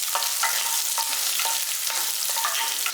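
Garlic, fennel seeds and curry leaves fry in hot oil, giving a steady loud crackling sizzle with bright spattering pops recurring at a quick, uneven rhythm.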